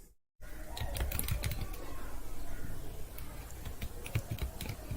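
Password being typed on a computer keyboard during an Android app pentesting exercise, with quick, close, irregular key clicks in short runs following a moment of silence at the start.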